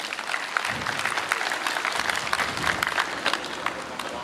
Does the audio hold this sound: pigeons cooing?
no